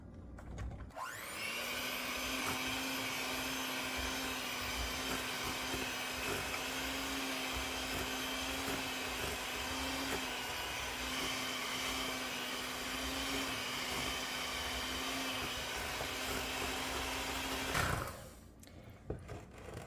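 An electric stand or hand mixer beats butter, sugar and cream cheese for cookie dough, a steady loud motor whine running continuously for about seventeen seconds before switching off, with no talking.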